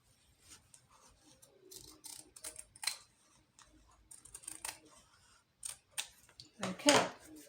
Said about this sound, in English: then I'm going to cut my fabric out.